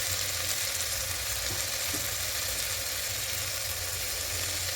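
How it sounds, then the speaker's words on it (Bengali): Chicken and mixed vegetables sauté in a small amount of oil, giving a steady, close, dense sizzling hiss that holds throughout without pause or voices. "এবার সব কিছু খুব ভালো করে কষিয়ে দেব।"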